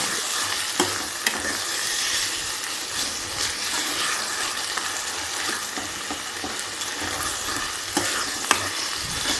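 Cluster beans fry in hot oil with ginger-garlic paste while being stirred, a steady close sizzle broken by occasional sharp spoon scrapes against the pan, with no voices.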